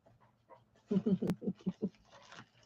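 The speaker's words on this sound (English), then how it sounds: "Silly little doggy." A small dog pants in quick, short bursts close by, with a brief faint whimper and some soft huffing before and after the main run of breaths.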